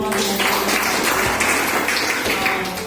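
A crowd in a prayer hall claps to welcome a guest at the hall's inauguration, a steady, fairly loud wash of applause that holds throughout without pause.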